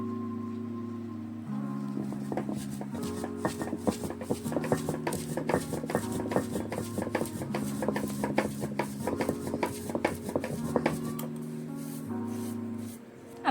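Sesame seeds ground on a traditional stone slab, a steady rhythmic rubbing and grinding in quick repeated strokes, close and moderately loud, with a low hum underneath.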